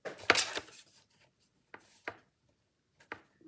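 Paper being cut for a scrapbook album, with a short burst of scissor or blade rasping at the start and a few brief, separate snips after pauses, close and fairly quiet.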